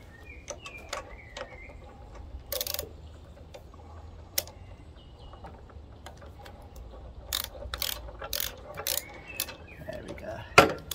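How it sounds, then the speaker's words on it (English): A ratchet clicks in short runs while tightening parts on a petrol pressure washer pump, close and fairly quiet, with occasional metallic knocks and brief bursts of louder clicking near the end. "Go back to our other ratchet."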